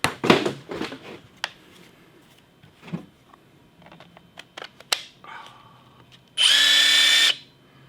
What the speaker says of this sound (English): What's cool about these drills?